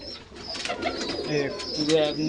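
Young pigeons of Kaldom, Laldom, Rampuri, Napta and Kamagar breeds coo softly in low, murmuring bursts at a sale, with light chatter and background noise around them.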